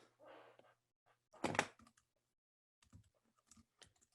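Typing on a computer keyboard comes as scattered key clicks, with a short burst, a louder thump and sparse taps around them, close and otherwise quiet.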